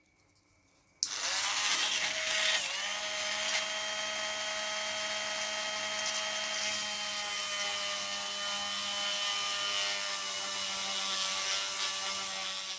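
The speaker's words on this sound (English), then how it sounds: "I'm just going to use the drill from the right hand side to carefully drill out the centre of each bolt." A small drill with a 0.5mm carbide bit bores out the centre of a bolt, starting abruptly and then whining at a steady high pitch, close and continuous with no talk.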